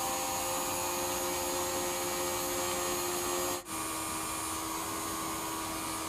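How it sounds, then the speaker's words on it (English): A small fan cart's electric fan blows air into a sail mounted on the same cart, giving a steady, loud whirring hum with a brief dip partway through, no talking. "Now this is just the fan cart's fan blowing into its own sail."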